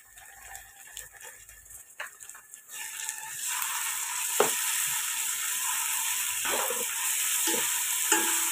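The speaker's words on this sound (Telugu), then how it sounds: "అప్పటికప్పుడే వేసుకుంటే అల్లం వెల్లుల్లి పేస్ట్ ఇలా ఫ్రై అవుతుంది కదండి" Ginger garlic paste for prawn biryani hits a pan of softened onions. The frying swells into a loud, continuous sizzle, and a spoon scrapes and knocks now and then as it stirs.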